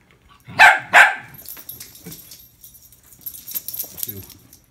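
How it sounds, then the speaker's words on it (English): Two dogs give two loud, close barks, then chase each other with scrabbling and jingling of tags or keys under faint background noise. "Dogs being terrorists over there in the background, as you can hear, chasing each other."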